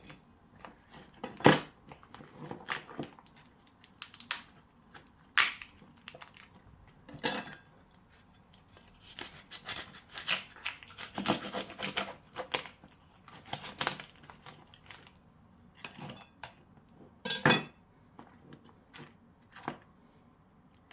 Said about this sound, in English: So I go in with my knife, yeah, and I'm just gonna quickly cut my lobster